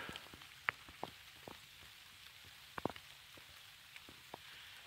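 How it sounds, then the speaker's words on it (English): Rain falling in Uwharrie National Forest, with scattered drips and drops tapping on leaves and surfaces over a faint, steady hiss, quiet and close. "I don't know if you can hear the rain."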